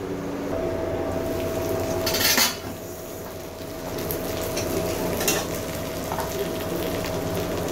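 Bata fish charchari simmering in a covered pan, a soft steady bubbling hiss with two brief clinks of metal utensils or lid early and midway, fairly quiet and close.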